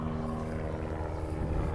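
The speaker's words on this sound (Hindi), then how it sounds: "हेलीकॉप्टर उड़ रहे हैं यहाँ से" A helicopter passes overhead at a pilgrimage site, giving a steady, fairly loud rotor and engine drone with a low throbbing pulse. No one speaks.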